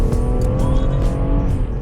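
BMW M140i launching hard under launch control, its engine roaring loud and close with a tire-squeal edge as the wheels spin through the whole moment, no talking.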